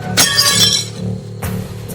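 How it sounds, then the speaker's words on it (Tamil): Glass falls and shatters with a loud, bright crash, followed a moment later by a second burst of tinkling shards, heard close. "இந்த இதுல இருந்து எப்படி இந்த கண்ணாடி வந்து விழுந்திருக்கும்"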